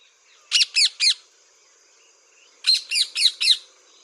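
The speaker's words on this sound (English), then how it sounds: "Yes, it is a parakeet." A parakeet lets out shrill, rasping squawks, a quick run of three, a pause, then four more, loud and close with no other sound.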